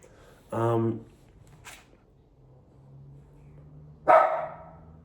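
Two short barks from a nearby dog, separated by a few seconds of quiet with a faint low hum in the background.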